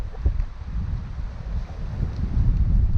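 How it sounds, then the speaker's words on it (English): Strong wind of around 22 knots buffets a Bavaria 41 yacht under sail, producing a close, loud, low rumbling roar that swells toward the end, with no speech. "It is really windy"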